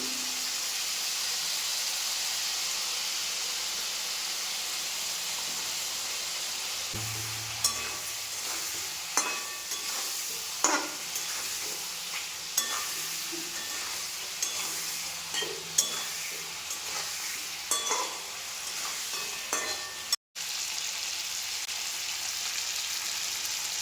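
Chicken pieces seasoned with salt and turmeric fry in a pan with a steady, close sizzle, while repeated scraping stirs break through at an uneven rhythm, with no talk.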